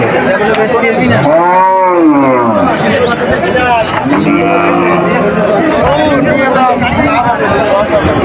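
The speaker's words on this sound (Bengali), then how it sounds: "আপনার তো দারুণ একটা গরু, এটা তো লাভের গরু" Cattle bellow loudly at a busy Bengali cattle market, with a long rising and falling moo and a second lower call over constant crowd chatter and people talking nearby.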